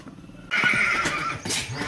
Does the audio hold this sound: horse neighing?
yes